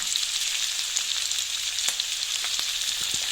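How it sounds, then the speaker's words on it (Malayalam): Capsicum and onion sautéing in hot oil, a steady close sizzle with faint stirring scrapes and clicks, no talking. "പിന്നെ കുറച്ച് എണ്ണയും കൂടെ നമ്മൾ ഇതിലേക്ക് ആഡ് ചെയ്ത് കൊടുത്തിട്ടുണ്ടേ, പെട്ടെന്നൊന്ന് വഴന്ന് കിട്ടാനായിട്ട്."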